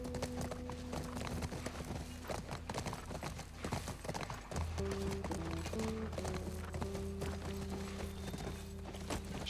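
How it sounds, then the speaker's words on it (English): Horses galloping in The Last of Us video game, rapid rhythmic clip-clop hoofbeats with an occasional whinny, under a soft musical score, moderately loud and continuous. "riding horses"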